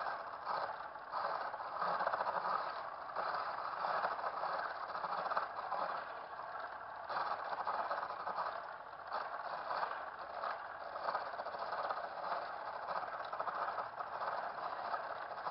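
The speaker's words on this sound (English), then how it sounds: "So now if I'm going to start the lathe again" A foot-powered treadle lathe running in a carving workshop, giving a steady, moderately loud mechanical rattling and clattering drone that continues evenly with no talk.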